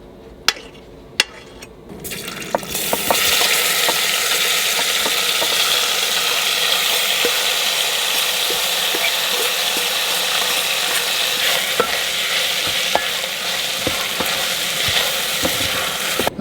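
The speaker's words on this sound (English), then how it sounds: "Gonna go back in with a little bit more of the rendered pork fat for this last bit of saute" Pork sautéing in rendered pork fat in a pan, starting with a few sharp clinks and then breaking into a loud, continuous sizzle with scattered crackles and stirring scrapes that carries on steadily throughout, close and with no talking.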